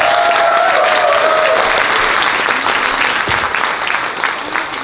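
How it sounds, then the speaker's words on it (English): A convention crowd at closing ceremonies claps loudly and steadily, dense applause that fades slightly toward the end. "Give her a big round of applause."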